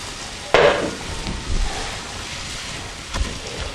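Diced potatoes sizzle in hot oil for a samosa filling, a steady close hiss with a couple of louder scraping stirs near the start and toward the end.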